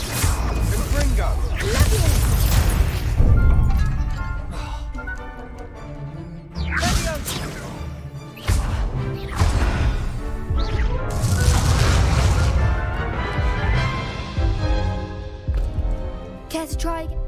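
Confringo spell blasts in Hogwarts Legacy, a string of loud crashing explosions and whooshing impacts in quick succession during a duel, with shouted voices mixed in among the bursts.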